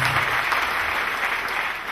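Church congregation clapping for Lord Jesus Christ during a prophet's sermon, a loud, continuous wash of many hands close and sustained for the full stretch, with no voice over it.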